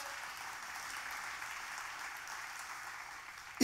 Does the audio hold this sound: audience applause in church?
yes